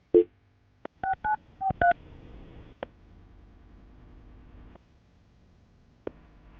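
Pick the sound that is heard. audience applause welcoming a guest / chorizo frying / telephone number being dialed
telephone number being dialed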